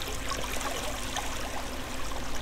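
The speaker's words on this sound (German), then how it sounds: "Oh, hier ist auch wieder Wasser." Steady flowing water in the block-building game Minetest, a continuous soft rushing and trickling that holds even and alone throughout, with no voices.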